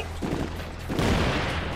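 A flashbang grenade goes off in Ghost Recon Future Soldier, a loud, sharp blast midway through, followed by crackling gunfire-like noise; no speech.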